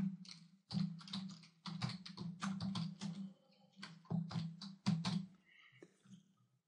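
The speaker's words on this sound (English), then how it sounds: "And I want you to type return to top." Close, fairly quiet typing on a computer keyboard: short irregular clusters of crisp key taps with brief pauses between words, with no speech over it.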